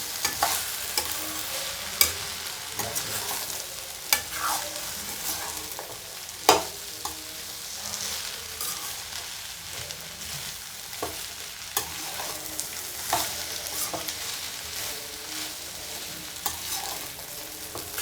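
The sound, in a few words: okra (lady's finger) frying and being stirred in a pan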